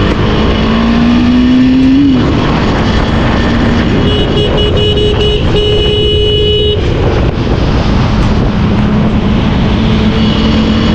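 KTM Duke 250 motorcycle revving hard in full mode on a wet road, a loud, close engine whine climbing in pitch through the gears, dropping and surging again without pause.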